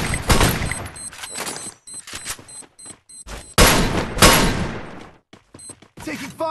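Bursts of gunfire from a Free Fire team deathmatch, with rapid automatic volleys and single shots in quick clusters, loud and close, broken by brief pauses and game sound effects.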